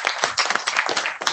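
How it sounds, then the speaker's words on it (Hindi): Clapping from the audience at an agricultural research foundation day and award ceremony, dense and irregular hand claps filling the whole stretch at a fairly loud level with no talking over them. "गुजारिश करेंगे एक बार सभी आप लोग तालियों से।"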